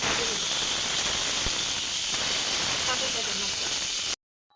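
Brinjal slices fry in a little oil, giving a dense, loud, hissing sizzle that holds steady for about four seconds and then cuts off abruptly into silence.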